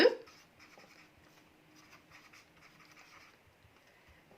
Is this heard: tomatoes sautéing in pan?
no